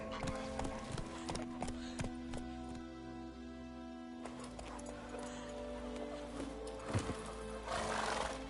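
Horse hooves clip-clopping and a horse neighing in The Witcher 3, a rhythmic run of hoof clops with a whinny near the middle, over a low game ambience.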